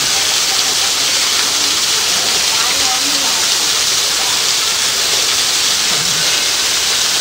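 The Syankhudi waterfall in Nepal pours with a loud, unbroken roaring hiss that stays constant from start to finish.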